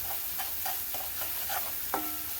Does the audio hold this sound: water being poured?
no